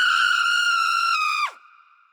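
A burning woman's terrifying scream echoing all around: one long, loud, high-pitched sustained shriek that ends with a sudden downward slide, then a faint lingering tone.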